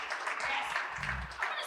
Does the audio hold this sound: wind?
no